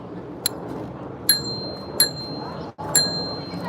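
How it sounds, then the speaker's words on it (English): Faint, bright bell dings ring out four times at uneven intervals over low background rumble. "That's a bell."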